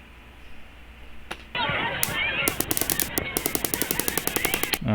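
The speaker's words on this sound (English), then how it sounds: "let's just go ahead and play the entire volley, so you can get a feel for the difference in" A recorded volley of rapid automatic gunfire from the Las Vegas shooting crackles in a fast, even burst of sharp reports, heard from a distance over a steady background noise.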